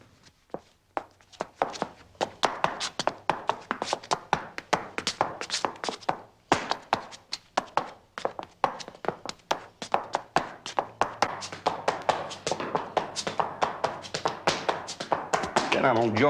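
A dancer's feet beat out quick bluegrass mountain-dance steps, a dense run of sharp taps and thumps in lively uneven rhythm, close and fairly loud, building in intensity toward the end.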